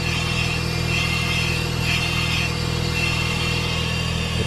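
A Mazda RX8 rotary engine that had sat unused for years idles steadily while warming up, a smooth continuous hum with a low, even drone throughout and no talking.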